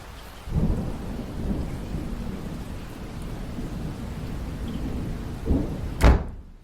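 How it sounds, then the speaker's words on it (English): A thunderstorm sound effect: heavy rain falls steadily as a dense hiss, and low thunder rolls build and fade. A sharp, loud crack lands near the end before the sound cuts off abruptly. "ye Catholic gads, what a storm!"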